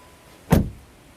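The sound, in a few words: VW Golf R Mk8 car door closing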